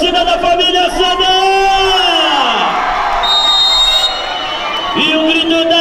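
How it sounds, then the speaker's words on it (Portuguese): Football supporters of família CDA chant and cheer at a final of the Arena Tokaia championship, with loud sustained crowd voices and whoops rising and falling throughout. "Cadê o grito da torcida da família CDA?"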